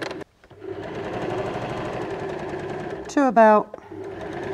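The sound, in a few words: sewing machine stitching a knot strap bag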